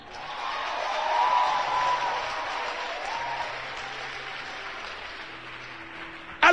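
A church congregation claps in sustained, steady applause that swells early and then gently tapers, filling the room without voices.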